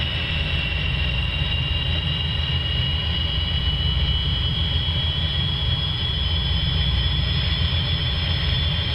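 The jet engine of a Hawker Hunter spools up in a flight simulator, a loud steady whine with a constant high tone over broad rumbling roar, continuous and unchanging with no talk.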